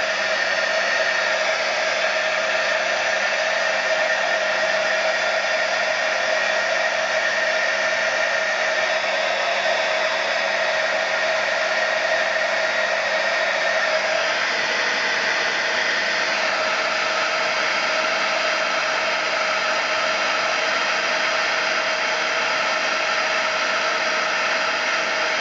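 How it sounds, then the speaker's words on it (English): A heat gun used for crafting, warming up to melt embossing powder, blows with a steady, loud, unbroken hiss of fan and air that continues alone for the whole stretch, shifting slightly in tone partway through. "let my heat gun heat up"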